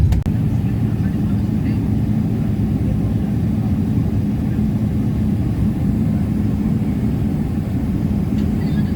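An airplane landing at Phnom Penh's new airport gives off a steady, loud low roar of engine and cabin rumble that holds unchanged throughout, close and enveloping.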